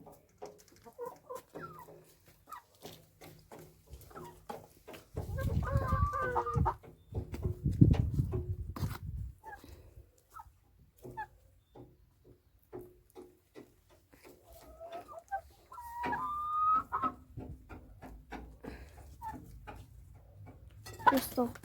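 Hens and a few roosters in a henhouse cluck in scattered bursts and squawks, with shuffling noises and people talking throughout.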